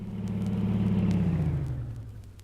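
A motor car engine idles as a radio drama sound effect at a traffic signal, a low steady rumble that swells briefly and then slowly drops away, heard alone with no voices.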